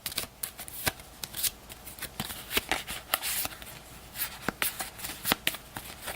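A deck of cards shuffled by hand at a tabletop game, giving a rapid run of crisp riffling snaps and flutters in uneven bursts, close and fairly quiet, with no talking.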